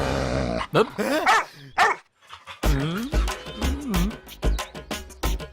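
A dog barks and growls up close in a burst of loud, rough barks, pauses briefly, then lets out a rapid string of barks and yips.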